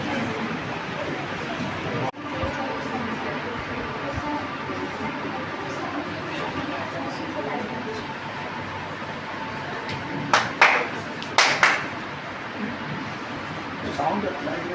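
At a science exhibition, a few sharp hand claps switch on a sound-activated light model. They come near the end in quick pairs amid ongoing chatter and voices in a busy hall.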